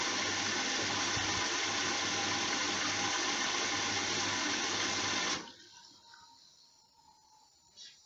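A Bosch Serie 6 washing machine washing a blanket on a cotton programme gives a loud, steady rush of water and drum noise with a low hum, which drops sharply to a quieter background for the last few seconds.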